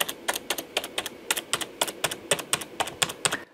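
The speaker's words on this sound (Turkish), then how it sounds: "Şimdi klavyenin sesi tam mekanik değil, tam mekanik olmayan klavye gibi de değil." Rapid keystrokes on a Razer Ornata V2 hybrid mechanical keyboard, crisp, evenly spaced clicks in a steady typing rhythm, close by and alone without any voices.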